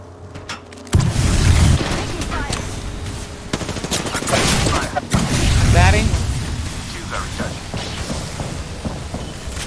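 Video game firefight gunfire, with bursts of heavy rapid shots and booming impacts swelling and fading in waves, near and loud, while players talk over the noise.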